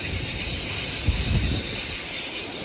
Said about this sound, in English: there goes the train, the famous Dawlish Warren trains